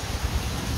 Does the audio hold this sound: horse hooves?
no